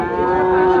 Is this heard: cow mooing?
yes